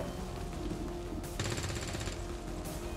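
Sustained suppressing fire from a soldier in XCOM 2, a steady rattling burst of automatic shots that starts abruptly mid-clip over a continuous game background hum.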